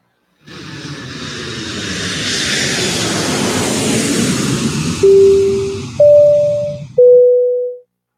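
An airplane engine roars up and sweeps past as a broad whooshing swell, followed by three pure electronic tones stepping in pitch like a cabin chime.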